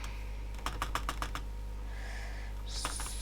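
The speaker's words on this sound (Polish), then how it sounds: "Sorry, że tak głośno klawiatura." Quiet, close computer keyboard typing during Minecraft play: a quick run of clicking keystrokes, a pause, then a few more taps over a faint steady hum.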